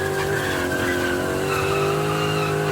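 A V8-powered BMW E28 street drifting lets out a loud, sustained tire squeal with a steady howling pitch over a droning engine, heard up close with no voices.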